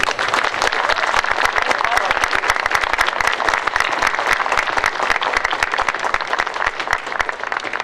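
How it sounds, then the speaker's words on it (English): A large audience at a graduation ceremony bursts into sustained applause, dense steady clapping filling the whole stretch at full loudness with a faint murmur of crowd voices mixed in. "Now, let's cheer them on with a big round of applause"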